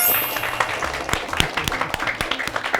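Scattered clapping from a small group on a parent-and-child game show, uneven and fairly sparse, with some background murmur underneath.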